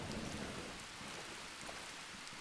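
Rain during a thunderstorm in the video game The Tourist, a soft continuous hiss of falling raindrops on the ocean, faint and steady with no thunderclap standing out.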